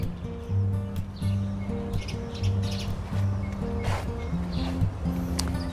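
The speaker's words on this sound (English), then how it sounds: "These birds are gonna fight this early in the morning." Several birds chirp and squabble at dawn in a garden of beans and soybeans, bright tweets and calls scattered over a steady low hum, fairly close and continuous.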